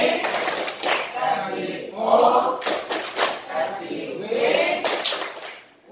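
Workshop audience in Kutai Kartanegara clapping in short, rhythmic bursts that start and stop several times, mixed with someone talking in between.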